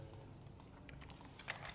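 Keys being typed on a computer keyboard while coding a C++ Bezier spline program, a quiet run of soft clicks with a few sharper taps near the end, no voices.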